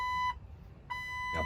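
Switching on the ignition of a 1997 Jeep TJ sets off a dashboard warning chime: two clear electronic beeps separated by a short pause, close and moderately loud.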